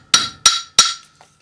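Hammer blows on a 2.5mm wire bangle set on a metal mandrel: three sharp, evenly spaced metallic strikes close up, each ringing briefly before the next, with no talking.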